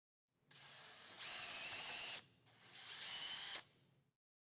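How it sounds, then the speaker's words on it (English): A power drill bores two 1/4-inch holes through a wooden bed side rail, two separate close bursts of whirring drilling, each ramping up to full speed before stopping. "Drill two 1/4-inch diameter holes through the right side rail."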